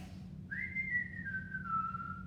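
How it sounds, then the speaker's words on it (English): A single sustained whistled note that slides gently downward over about two seconds, clear and steady over a faint low background hum. "It's whistling."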